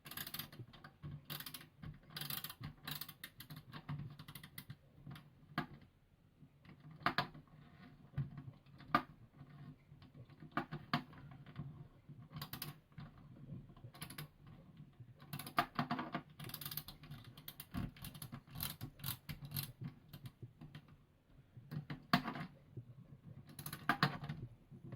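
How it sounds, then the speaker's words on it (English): A ratchet drives small screws into a model Titanic hull piece, a close, quiet stream of rapid clicking bursts in uneven runs with brief pauses between, with no talking. "I'm using my ratchet to put these screws in."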